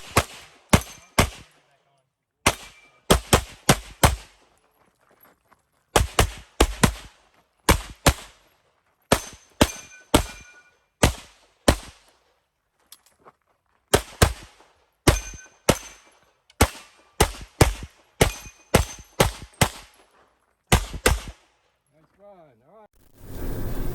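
Gunfire on a shooting competition stage with steel targets, many rapid close shots in tight strings of two to five separated by pauses, loud and sharp, with brief voice sounds at the end.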